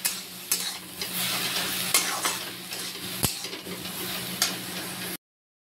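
Spices with turmeric, cumin powder, coriander powder and tomato being stirred in a pan, with a steady sizzle broken by repeated scraping spoon strokes, close and moderately loud, ending abruptly in silence.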